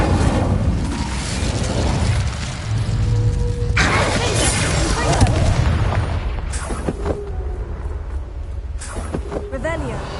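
A roaring blast of conjured flame from the Incendio spell in Hogwarts Legacy, a loud sustained whoosh with booming surges, followed by sharper crackles near the end.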